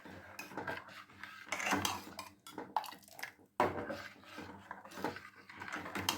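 Milk payasam is stirred steadily in a heavy-bottomed pan, a close series of scraping and clattering strokes of a spoon against the metal, in uneven bursts with one short break, fairly quiet and without talk.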